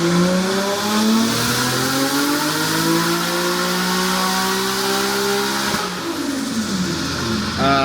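Toyota GT86 drift car engine revs hard and steadily at close range, pitch climbing over several seconds, dipping briefly as it shifts, then rising again, loud and continuous with no talking.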